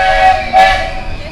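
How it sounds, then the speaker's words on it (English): A steam train at Magic Kingdom sounds a brief whistle as it passes, the tone clear and moderately loud against a busy theme-park background. "There goes the train."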